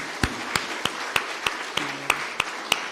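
Clapping in a church service comes as evenly spaced single claps at a steady rhythm, sharp and distinct over a quiet room, with a brief low tone midway.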